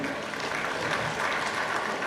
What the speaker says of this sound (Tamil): எல்லோரும் ஒரு தடவை கை தட்டிட்டு சந்தோஷமாக நிமிந்து உட்காந்துக்கங்க